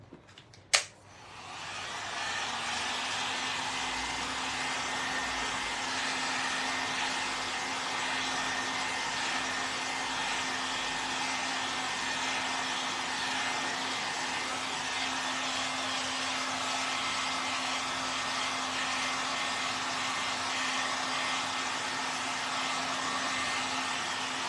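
A hair dryer blows steadily and loudly to dry fabric and leather paint, a continuous airy whoosh with a faint steady hum, preceded by a brief click as it switches on.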